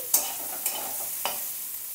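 Soybean chunks fry in hot oil in a kadai, a steady close sizzle punctuated by three distinct spatula scrapes spaced about half a second apart, with no talking.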